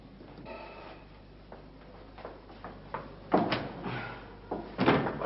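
A door in a residential house is banged on and forced, with a series of loud, sharp impacts that grow more forceful, the heaviest blows landing close together near the end.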